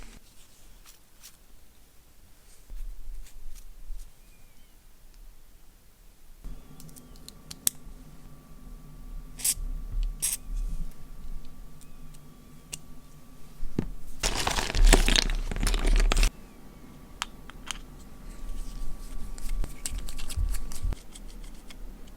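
A plastic parts bag from an Axial SCX10 PRO RC crawler kit is torn open, giving a loud burst of crinkling and crackling midway, with lighter rustles and clicks around it and a steady low hum in the background.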